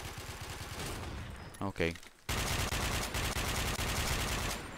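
Rapid gunfire from a sniper rifle in a chaotic online shooter game, loud and dense through most of the clip, with a short break where a person speaks briefly.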